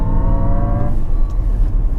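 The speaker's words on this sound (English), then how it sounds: "I'm driving the all-electric Jaguar I-PACE," An all-electric Jaguar I-PACE drives on the Portimao race circuit, its loud, close motor whine holding steady tones at first, then fading into broad road and wind rush.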